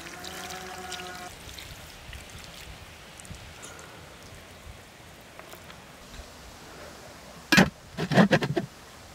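Water poured from lamb meat into a pot while cooking a lamb-and-chestnut stew outdoors, a quiet trickling under faint background noise, ending in a few louder splashy bursts.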